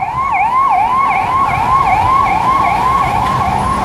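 An ambulance siren wails outside in a repeating rising-and-falling cycle, loud and steady, over a low rumble of traffic.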